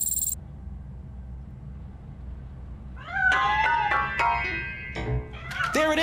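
Cat meowing inside a piano in the video game RoboCop: Rogue City, several drawn-out, wavering meows close by over a low ambient hum, following a brief electronic chirp.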